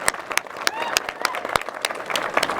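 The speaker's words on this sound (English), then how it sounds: "I want to give Greg the hand of applause and his family" At an outdoor groundbreaking ceremony, a crowd claps for a man and his family: scattered, distinct hand claps in an uneven rhythm, moderately near, with background voices murmuring.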